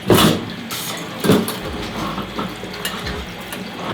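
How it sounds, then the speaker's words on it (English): Running water pours and splashes into a black-and-white film developing tank nearby, with a few knocks and handling clunks along the way. "So I'll pull the top off and fill it with water."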